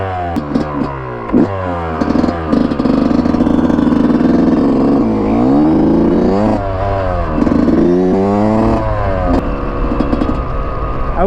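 A two-stroke dirt bike engine, loud and close, revving up and down over and over, with harsh rising and falling pitch sweeps and a buzzy exhaust note.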